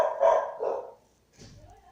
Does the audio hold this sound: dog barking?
yes